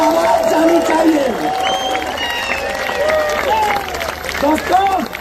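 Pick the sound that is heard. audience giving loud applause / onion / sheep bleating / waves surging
audience giving loud applause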